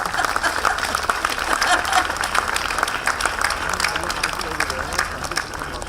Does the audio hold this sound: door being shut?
no